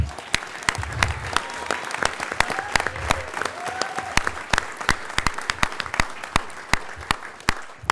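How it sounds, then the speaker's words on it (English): Audience at a city council meeting breaks into sustained applause, dense close clapping with sharp individual claps standing out throughout, and faint voices underneath. "we owe them a round of applause just for that"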